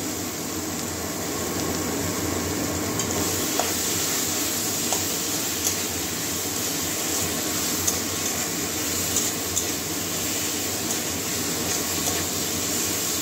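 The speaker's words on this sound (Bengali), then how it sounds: "মশলা থেকে তেল ছেড়ে দিয়েছে, এবারে ধুয়ে রাখা সয়াবিনটা দিয়ে দিচ্ছি।" Washed soybean chunks go into hot oil and frying spices in a pan, producing a continuous sizzling hiss with a few scattered clicks and stirring knocks, steady and close, with no talk.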